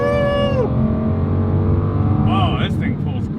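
Rare Aston Martin with a big V12 engine pulling hard, its rising engine tone sweeping upward and then dropping as it shifts, loud from inside the car, with people talking over it.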